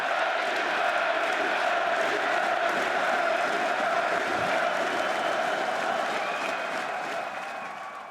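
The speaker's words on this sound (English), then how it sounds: "if they keep cheering like that during the games" A packed arena crowd at the 2016 EU LCS Spring Grand Finals esports event, Origen vs G2, cheers and applauds in a loud, sustained roar that eases slightly near the end.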